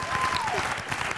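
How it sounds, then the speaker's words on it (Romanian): Dense, steady clapping from a crowd, fairly loud, with a voice or whistle-like tone gliding over it briefly. "Aplauze și iar aplauze!"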